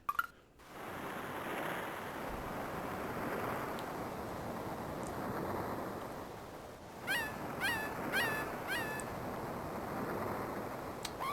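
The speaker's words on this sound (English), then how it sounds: "there the seagulls cry" Seagulls crying within a Wario Land 4 music track: a cluster of high, wavering gull calls in quick succession over a soft, washy ambient bed, fairly faint and alone.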